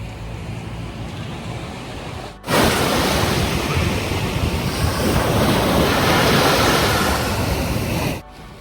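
Ocean surf rolls onto My Khe beach in Da Nang, a loud, steady wash of breaking waves with heavy wind noise buffeting the microphone, rising abruptly after a quieter opening and dropping off near the end.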